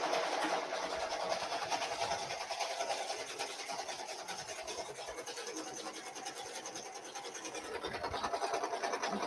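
A home embroidery machine stitches a Christmas pajama design with a quiet, rapid mechanical buzzing and rubbing that holds steady throughout, faint and close.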